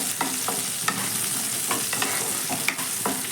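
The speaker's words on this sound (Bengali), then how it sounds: "বরবটিটাকে তেলের মধ্যে দিয়ে একইভাবে আমি বরবটিটাকে হালকা ভেজে নেব" Chopped yardlong beans fry in hot oil with a lively, constant sizzle. Repeated scraping and clicking from stirring break through it at close range, and no voices are heard.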